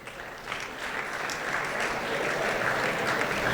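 Audience applause for prize winners at a Maitrimilan event, steady and sustained clapping from a crowd that builds slightly and holds throughout, no voices over it.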